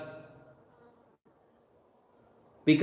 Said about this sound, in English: oh, look, a wasp.